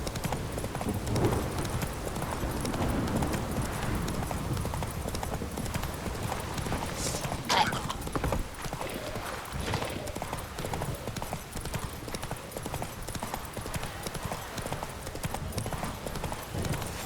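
Roach the horse in the Witcher 3 video game gallops with a steady, continuous clip-clop of hooves that runs the whole time over a low game-world ambience, with a brief louder accent partway through.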